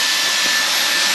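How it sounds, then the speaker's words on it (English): A small vacuum cleaner roars steadily and loudly up close while cleaning out an air filter housing, a constant high whooshing drone with no talking. "Now, back to the little vac."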